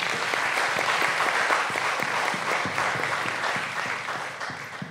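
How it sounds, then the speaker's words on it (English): Audience at a conference on Indigenous heritage and student engagement gives a round of applause, a full, continuous wash of clapping with distinct individual claps, slowly tapering near the end. "We give them a round of applause."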